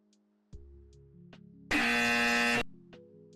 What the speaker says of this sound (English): Sorry for the incorrect buzzer sound, there's no correct buzzer for me.